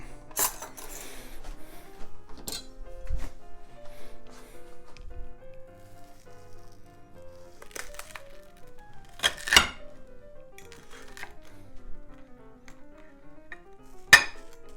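Cutlery cutting into a plate of green eggs and ham, with a few sharp scrapes and clinks of knife and fork on the dish spread across a quiet stretch, and faint background tones between them.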